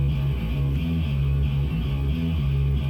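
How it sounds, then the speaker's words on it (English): A clean electric bass plays a repeating low riff, round and undistorted, with the notes stepping up and down in a steady groove. "it switches to a clean sound, so the bass sounds like this"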